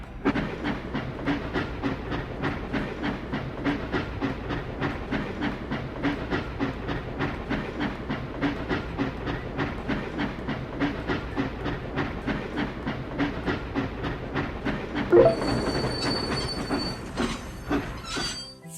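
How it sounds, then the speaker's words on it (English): Toy train in a mobile building game rolling along to the depot, with steady rhythmic clickety-clack and wheel squeal throughout, a brief louder clunk near the end followed by faint chimes. "Let's send the train to the depot."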